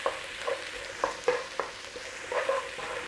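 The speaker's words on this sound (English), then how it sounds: "All we're doing is taking the rawness out of the garlic and the onion" Onions and garlic cook gently in a pan with a soft, steady sizzle, broken by occasional scrapes and taps of a stirring utensil, close but fairly quiet.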